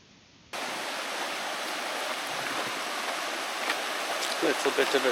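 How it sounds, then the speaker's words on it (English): Small mountain stream flowing over slippery rocks along a backpacking trail, a steady close rushing wash that starts abruptly and runs continuously, with a few faint knocks near the end. "Little bit of a stream"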